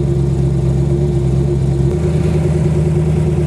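A 1200 HP Factory Five GTM with a 427ci LSX engine gives a loud, steady low-pitched engine drone from close by, holding an even tone through the moment without talk.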